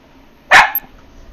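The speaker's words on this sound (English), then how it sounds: "That is my dog." A dog gives one sharp, close bark, a short burst followed by a faint second yip, then near-silence.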